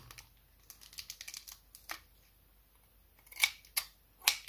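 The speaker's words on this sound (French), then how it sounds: "C'est des ciseaux tout neufs, j'en chie pour les ouvrir." Sharp snipping and clicking sounds in irregular bursts as brand-new scissors are forced open, with a few louder snaps near the end, close by and without voices.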